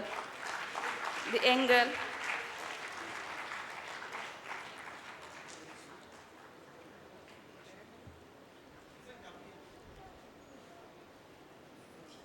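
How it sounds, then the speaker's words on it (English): A conference audience at a Brahmo Samaj gathering in Hyderabad applauds a young girl receiving a prize, a soft, fairly distant round of clapping that fades out over several seconds, with someone speaking over the start. "Please give a big round of applause to girl"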